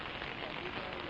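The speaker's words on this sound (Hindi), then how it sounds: "बारिश तेज हो चुकी है।" Heavy rain falls steadily outdoors during a news report, a dense, even hiss filling the whole moment with no breaks.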